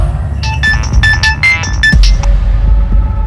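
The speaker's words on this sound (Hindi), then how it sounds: "किसका फोन है?" A mobile phone rings loudly with a bright, repeating electronic tone in short bursts, set over a low rumbling background with no talk.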